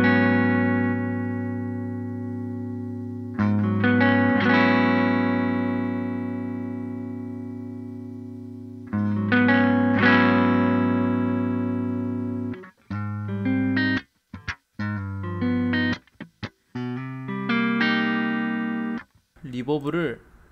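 An electric guitar played through a Two notes Torpedo C.A.B. M+ pedal with the enhancer set to 50% rings out in sustained distorted chords, then choppy muted stabs and short bursts toward the end, loud and alone.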